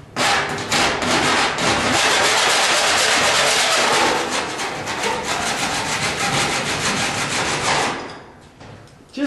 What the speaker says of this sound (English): So I'm going to take that and just file the edges of this off